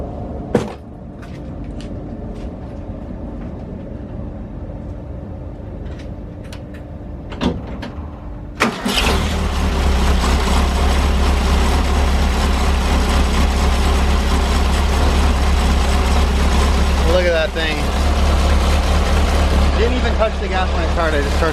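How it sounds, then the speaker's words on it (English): A Volkswagen bus engine with freshly adjusted valves cranks and catches after a few light knocks and clatters, then settles into a steady, fairly quiet idle that runs on, with a voice speaking at times. "we're gonna go ahead and fire it up and see how it runs"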